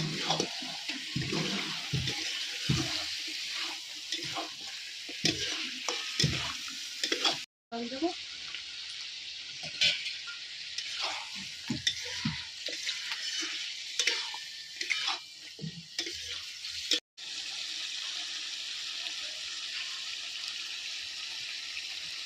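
Chicken curry with chilli sizzles and fries in a pan while being stirred, a steady hiss with intermittent scraping and clinks of the spoon, broken by two brief pauses before the frying resumes.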